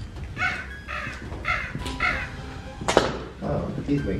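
A man imitates crow caws inside the old Parke County Poor Asylum in Indiana, about eight harsh, throaty calls in a rhythmic series, close and fairly loud, with one sharper knock partway through.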